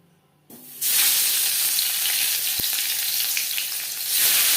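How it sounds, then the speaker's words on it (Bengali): Pangas fish pieces drop into hot mustard oil in a pan, bursting into a loud, close, dense sizzle that hisses steadily after a brief quiet start, with no talking. "দু চামচ সর্ষার তেল গরম করে নিয়েছি দিয়ে দেবো মাছ"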